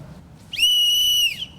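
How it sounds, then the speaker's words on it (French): A single sharp, high whistle blast signaling the start of a school exam at 7:30, held steady for under a second, loud and close, then cutting off. "quand le coup de sifflet retentit à 7h30"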